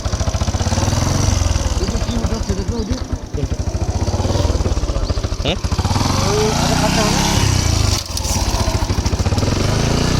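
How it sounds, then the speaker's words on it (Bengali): A motorcycle engine runs loudly and steadily throughout, its rough mechanical drone close by with a brief dip near the end. "চলো এই বাইক উঠলাম"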